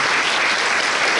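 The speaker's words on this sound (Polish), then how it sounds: "Wielkie brawa dla nich." An audience at a music memorial concert in a community hall applauds the singers, dense and loud continuous clapping filling the whole moment.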